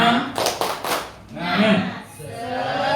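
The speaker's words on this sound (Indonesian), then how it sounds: "kita ice breakingnya tepuk tepuk semangat aja" A group performs the tepuk semangat clapping chant as an icebreaker at a school dissemination session, with a quick burst of sharp, synchronized claps followed by voices chanting together, fairly close and loud.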